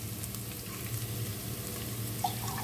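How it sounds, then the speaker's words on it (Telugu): Tamarind juice hitting a hot frying pan, a steady, close sizzle and crackle with a faint clink near the end, no voices. "ఇప్పుడు చింతపండు రసము పోసుకుందాము."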